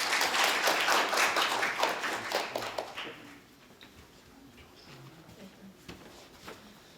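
Audience applause at a Korean unification literary festival award ceremony, a loud burst of clapping for the first three seconds that then fades to a quiet room with scattered sounds.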